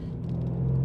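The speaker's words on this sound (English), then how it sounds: "I think it's a great car with a great noise." Engine note of a BMW M3 G80 with a manual gearbox, a steady low, rumbling idle-to-light-throttle drone heard from inside the car, rising slightly in strength toward the end with no talking.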